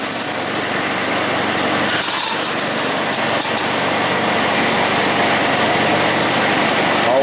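A continuous high-pitched machine whine of a drill bit boring metal on a lathe for a pulley, loud and close, steady throughout with faint scraping underneath.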